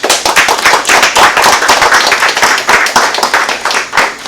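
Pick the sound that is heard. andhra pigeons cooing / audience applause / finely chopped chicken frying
audience applause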